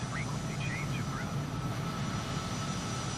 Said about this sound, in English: And the afterburner effects.